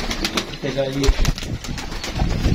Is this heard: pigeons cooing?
yes